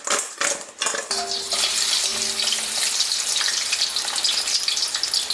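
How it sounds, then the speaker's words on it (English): Crab pieces coated in cornstarch hit hot vegetable oil with a sudden hissing sizzle after a few clinks of utensils, the frying crackling steadily and close up. "I've got hot vegetable oil, and all I'm doing is adding the crab directly to that hot oil"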